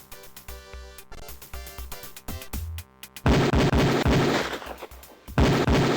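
Beretta pistol shots crack at a police firing range in the Police Quest 4 video game. Single spaced shots come first, then a burst of rapid, loud shots and a final heavy volley.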